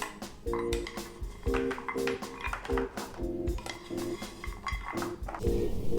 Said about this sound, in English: Spread them out on your baking tray.